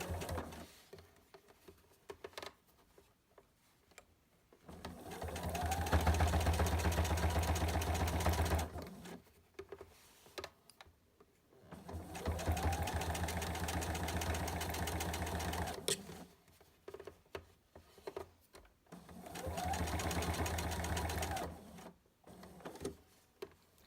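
A sewing machine stitching down binding on a quilt made with Soft and Stable runs in three separate bursts of several seconds each, with quiet pauses between them, steady and close.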